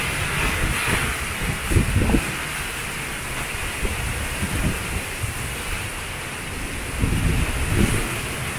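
Strong storm wind in Spring Branch, Texas roars steadily and close, with gusts strong enough to nearly blow over a motorcycle and rough buffeting bursts over a constant rushing wash.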